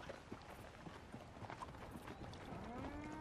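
Horse hooves clip-clop at a walk in Red Dead Redemption 2, a steady, fairly quiet patter of hoofbeats with brief tonal sounds near the end.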